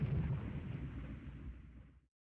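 Aircraft bombs burst in the naval battle game Rule the Waves 2, a single deep, muffled explosion that rumbles and fades out after about two seconds.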